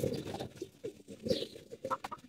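Young pigeons in a home loft make soft, brief coos and shuffling noises close by, faint and irregular, with no voices.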